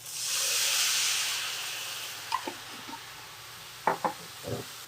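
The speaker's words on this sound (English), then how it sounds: "So I'm gonna deglaze this pan with a little bit of this." Beef broth with ginger, cayenne and lemon hits a hot pan, letting out a strong steamy hiss that fades, followed by a few close clinks and knocks of a utensil against the pan.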